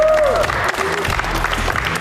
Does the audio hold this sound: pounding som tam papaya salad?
no